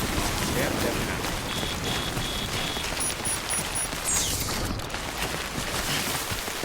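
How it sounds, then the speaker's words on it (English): Heavy rain falls steadily in the video game Death Stranding, forming a dense, continuous hiss with a few faint electronic tones above it. "No end to this rain."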